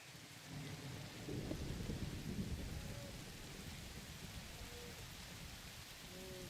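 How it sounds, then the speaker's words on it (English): A Minecraft thunderstorm brings steady, dense rain hiss with a low rumble of thunder swelling near the start, plus faint tonal chirps over the wash. "Let's go sleep this storm off."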